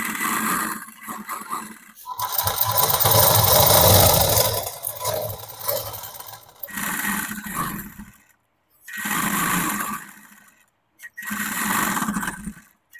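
A sewing machine stitches petticoat fabric in several loud, close bursts of whirring, the longest running a few seconds, separated by short pauses as the cloth is repositioned.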